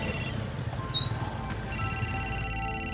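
A telephone rings with a repeating electronic ringtone of high beeps. It sounds briefly, pauses, then resumes steadily over a low background hum.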